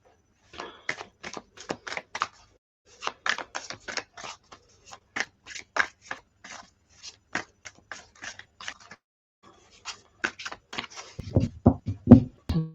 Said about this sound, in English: Okay, so really good shuffle.